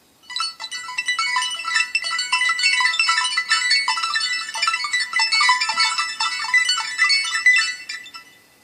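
The stock Firefox OS ringtone on a ZTE Open phone, a bright chiming melody of sparkling bell-like notes in a steady repeating pattern, clear and alone for about eight seconds.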